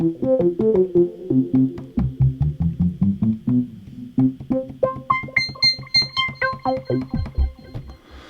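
An Arturia BeatStep Pro step sequencer plays stepped synth notes in a steady rhythm, moving from low bass tones up to higher bright notes, then dropping low again.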